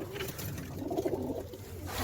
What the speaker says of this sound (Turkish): Kuşlar güzel.